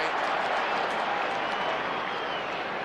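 A big football crowd of about 40,000 roars at the MCG during a 1992 AFL match between Melbourne and Geelong, a broad sustained wash of cheering and applause with a commentator talking over it.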